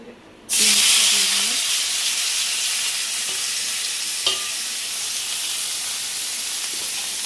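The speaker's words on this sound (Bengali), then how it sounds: "পেঁয়াজটা ভাজা হয়ে গেছে" Onions fry in hot oil in a pan for a Bengali muri ghonto, a loud steady sizzle that starts abruptly and holds throughout, with a brief clink of stirring partway through.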